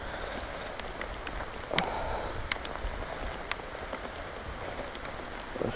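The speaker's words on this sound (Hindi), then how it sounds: "सच में बारिश बहुत बहुत जोरों की हो रही है।" Heavy rain pours steadily on a roadside during a ride past Bhalulata, a dense continuous hiss broken by a few sharp drop impacts, close and loud with no speech.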